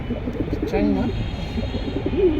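Pigeons coo in a busy pigeon market, their low throaty calls repeating amid a crowded murmur of voices and background noise.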